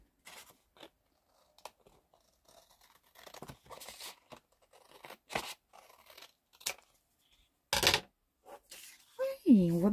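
Scissors snipping out a craft piece, a scallop-shell shape, in a run of short crisp cuts that come in irregular bursts with pauses between them, close and fairly quiet, with brief handling noises at the end.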